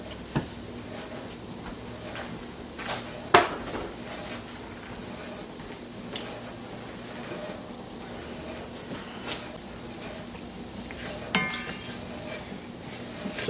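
Flour being stirred in a pan for gravy gives soft, sparse scrapes and clinks over a low steady background, close and quiet, with a couple of sharper knocks and no talking.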